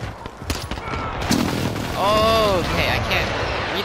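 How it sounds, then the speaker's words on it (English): Airstrikes and gunfire in a multiplayer shooter video game: rapid bursts of shots and a heavy blast, followed by a rising whine and a dull rumble, loud and close, with a voice talking over the action. "airstrikes and crap going on."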